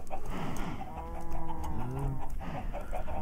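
Minecraft chickens cluck in short, repeated game-animal calls, several blips in quick succession over a low background hum.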